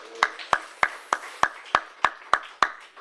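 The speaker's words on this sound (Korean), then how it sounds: "우리 박수로 하나님께 영광 올려드립니다" A church congregation at a Sunday service claps in unison, nine crisp, evenly spaced claps at a steady beat, close and clear with no talking.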